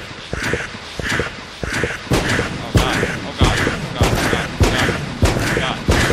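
Rapid Gatling gun fire from the video game Enter the Gungeon, a steady stream of sharp shots with game effects and music layered over it at close range.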